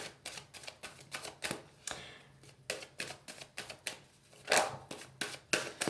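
A deck of oracle cards is cut and handled up close, producing quick crisp taps and flicks in an irregular rhythm, with no talking.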